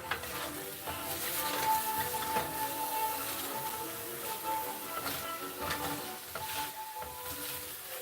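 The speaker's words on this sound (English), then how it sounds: "With a dry saute with the mushrooms." Mushrooms dry sautéing in a pan with no fat over low heat, a steady soft sizzle and hiss with light scraping and stirring, close and continuous, with a faint tone running under it.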